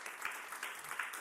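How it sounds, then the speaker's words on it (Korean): A church congregation applauds, a soft, steady wash of many hands clapping together, fairly distant and quiet, with no voices over it. "박수해 주시기 바랍니다"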